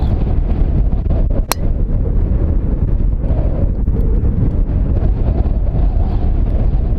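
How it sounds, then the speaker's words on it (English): Strong wind roars and buffets the microphone throughout on a wet golf course, a loud, continuous rumbling gust with one sharp knock partway through. "it's so windy and then wet that you can't make like proper swings"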